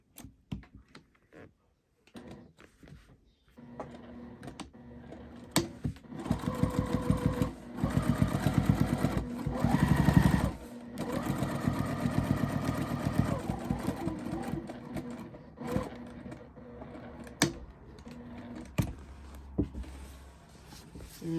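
Sewing machine stitching a tote bag seam: after a few scattered clicks, a rapid mechanical whirring run builds and holds close and steady, pauses briefly, then resumes before tapering into occasional taps.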